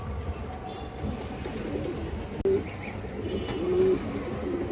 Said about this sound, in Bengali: এই যে দেখেন কবুতর